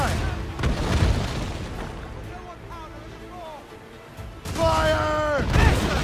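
Naval cannons booming during a ship battle in Assassin's Creed Rogue, heavy thuds at the start and a louder volley near the end, with shouted crew voices and wind in between.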